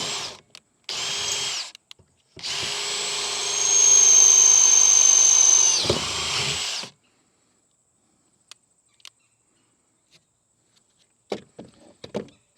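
A power drill with a 5/16 bit bores a hole while fitting landing gear to a NuCanoe Frontier 12 kayak, a long loud whine after short bursts, then quiet with faint clicks.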